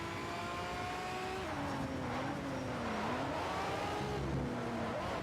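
A race car engine in a racing video game whines and shifts pitch as it accelerates and eases off, sustained and fairly faint in the background without breaks.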